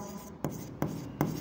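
A pen writes an amount in an accounting journal entry, giving three soft, quick scratching strokes at an even pace, close and faint.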